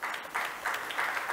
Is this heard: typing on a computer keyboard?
no